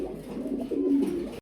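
Pigeon cooing close by in a loft, a soft throaty warble rising and swelling over about a second and a half, with no voices.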